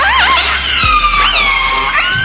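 A killer whale gives loud, close, sweeping whistles and squealing calls that rise and fall in pitch. Several calls run together over a steady background hiss.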